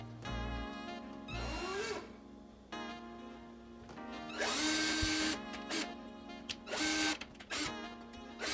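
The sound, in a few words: power tool boring holes to mount a console wall bracket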